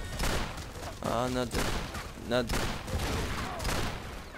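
Sniper rifle shots ring out in the video game Battlefield Heroes, a short burst of gunfire at moderate loudness, with a player briefly exclaiming over it.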